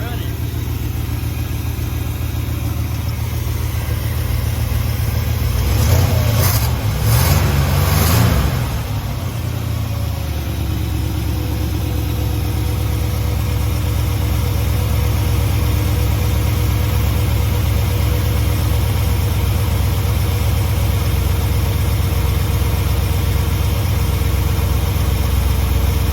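A 1960 Cadillac Eldorado V8 runs steadily at idle for a long stretch after being fired up, a loud continuous engine drone with a brief rise in revs early on.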